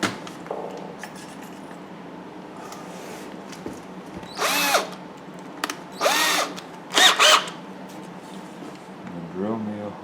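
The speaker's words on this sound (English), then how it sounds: "I'm going to take my drill and with the 1/8 inch bit" Short bursts of a power drill fitted with a 1/8 inch bit boring into a carved wooden Native American bust with a shield, three or four brief whirring runs between stretches of talk.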